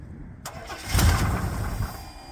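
A used truck engine with a rattle cranks for a moment, then catches and fires into a rough, close, fairly loud idle, with no talking.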